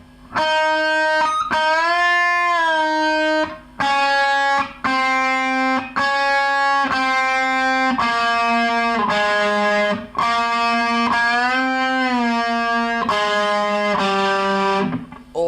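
Distorted electric guitar plays a riff at a slow tempo: loud, sustained power-chord stabs separated by brief gaps, with no voice over them.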